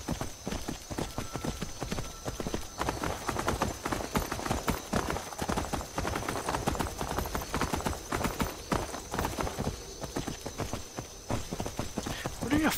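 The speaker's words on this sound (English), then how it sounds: "Going by horse is actually fairly quick" A horse ridden in the video game Skyrim gives a continuous, fast, steady patter of hoofbeats, loud and close throughout, with no talk.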